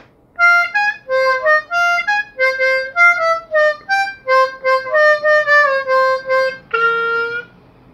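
Harmonica playing the saxophone section of a cumbia, a run of clear, bright sustained notes and short phrases in a steady dance rhythm, close and loud with no talking.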